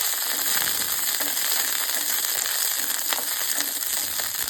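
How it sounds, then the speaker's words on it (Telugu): Green chillies fry in hot oil in a pan, giving a continuous bright crackling sizzle with small pops. It holds steady and fairly loud throughout, with no voices. "పచ్చిమిరపకాయలు కూడా మనం దోరగా వేయించుకోవాలి."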